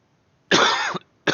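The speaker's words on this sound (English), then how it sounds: "Do not mean to be coughing in everybody's ear." A single harsh cough, close and loud, followed shortly by the start of a second cough, with silence around them.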